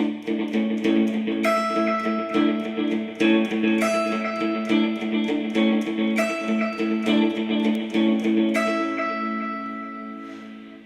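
The picked arpeggio riff of U2's "Bad" on electric guitar with a delay effect engaged, repeating notes smearing into a dense, shimmering, continuous wash, loud and close with no voices.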